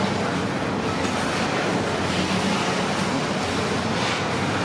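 A train moving along the rails gives a continuous, fairly loud rumble with a dense rolling roar and no distinct clacks, holding steady as it slows.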